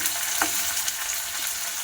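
Hot oil in a pan gives a steady, fairly loud frying hiss, with a couple of brief clacks as something is set on it, close and continuous and with no one talking.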